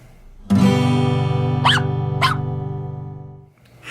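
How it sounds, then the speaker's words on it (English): A strummed acoustic guitar chord rings out and sustains as a toy poodle barks twice in quick succession. "Hippie Shake, our toy poodle, barks twice."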